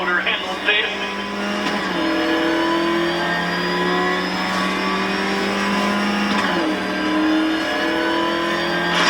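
The Batmobile's engine in Batman Arkham Knight accelerates with a loud sustained whine that shifts pitch through gear changes, while a voice talks over it.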